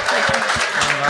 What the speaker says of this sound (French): On peut l'applaudir, mesdames et messieurs.